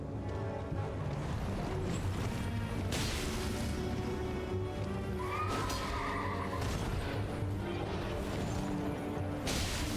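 A horse whinnies in Elden Ring over a dense, continuous game soundscape with mechanical clatter and occasional crashing bursts.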